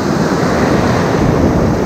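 Ocean waves surging loudly close by, a continuous rushing wash of surf with heavy wind buffeting the microphone, no voices.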